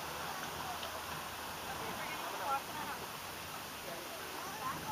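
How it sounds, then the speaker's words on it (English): A steady, hissing rush of steam venting from a Yellowstone hot sulfur spring cave fills the space evenly, like a constant breathy roar, with no distinct pauses or individual events. "It's a cave with steam coming out of it because of the hot sulfur springs underneath."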